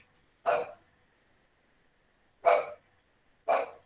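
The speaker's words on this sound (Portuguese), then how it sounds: "Ó, o cachorro latindo." A dog barks three times in separate sharp bursts, moderately close and alone, with silence between the barks.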